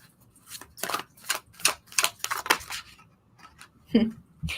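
A tarot card deck being shuffled by hand makes a run of crisp, papery bursts at an uneven rhythm, close by and fairly quiet, with short gaps between them.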